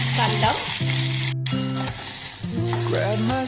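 Onion frying with cumin and mustard seeds in a pan, a loud close continuous sizzle with faint stirring, broken by a brief gap, while a voice speaks over it.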